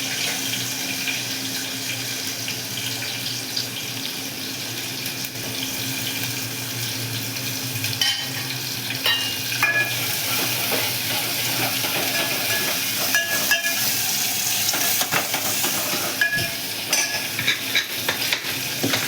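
Hot oil for a sambar tempering crackles and splutters steadily in a home kitchen, with a constant broadband sizzle, scattered sharp pops and clinks growing busier midway, and no talking over it.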